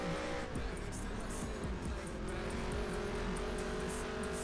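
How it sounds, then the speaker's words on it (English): Race car engines in the NASCAR Heat 3 video game, a loud, steady droning roar with shifting engine pitch and brief rises, continuous throughout, with a voice speaking faintly under it. "I love the engine sounds. Like, the cars sound great."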